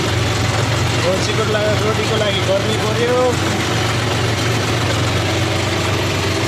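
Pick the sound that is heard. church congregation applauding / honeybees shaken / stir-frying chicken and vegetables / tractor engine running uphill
tractor engine running uphill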